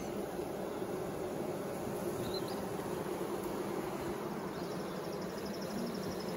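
Honey bees buzz at an open long hive during an inspection near the end of the honey flow, a faint, steady droning hum that continues evenly throughout.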